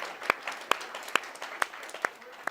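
An audience at the PlanetNix opening ceremony claps in a sparse, uneven patter, with several sharp claps standing out over softer scattered applause and a faint crowd murmur.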